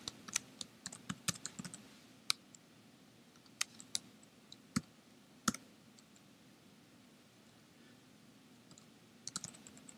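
Someone types code on a computer keyboard in short bursts of crisp key clicks, close and quiet, with pauses between runs and a soft room hum beneath.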